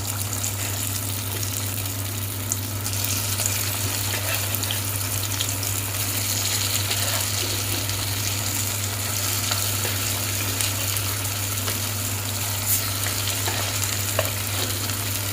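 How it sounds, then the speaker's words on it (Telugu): Tuna fish pieces frying in hot oil, a dense continuous crackling sizzle that holds steady and close throughout, with a low constant hum beneath and occasional sharper pops. "ఇప్పుడు మళ్ళీ మనము మిగిలి ఉన్న ఫిష్ ముక్కలు కూడా వేసుకొని మంచిగా వేయించుకుందాం."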